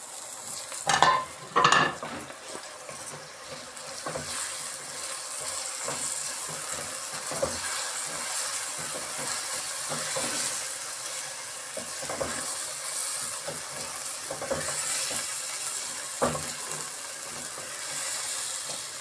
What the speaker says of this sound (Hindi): 2 मिनट हो चुके हैं, अब इसके अंदर हम कीमा डालते हैं।